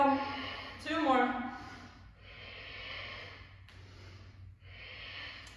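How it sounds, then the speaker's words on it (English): During a mobility warm-up, a person takes audible deep breaths: a sharp inhale, then long, soft exhales repeating at a slow, steady rhythm, close to the mic. "Inhale as you push it straight up. Exhale down."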